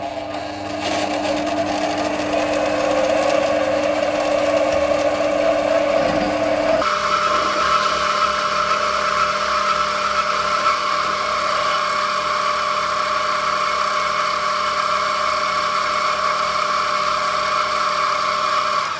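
An Amadeal CJ18A 7x14 mini lathe takes a cut, its motor whining steadily with a grinding, scraping edge that shifts to a smoother higher drone partway through, continuous and close.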